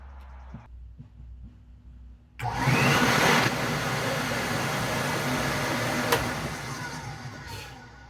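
Old Electrolux vacuum cleaner switching on after near silence and a few small handling knocks, then running with a loud steady motor whine and airflow hiss that eases slightly and holds close by.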